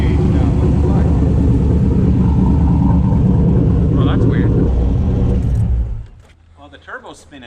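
Loud, steady rumble of a turbocharged 6.0 LS V8 engine running, the heavy drone holding for about six seconds before cutting off abruptly, leaving quiet background with brief voices.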